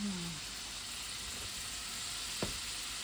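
Bottle gourd sizzling steadily as it sautés in a hot pan with fish sauce, a continuous close frying hiss with a brief stir or scrape near the end.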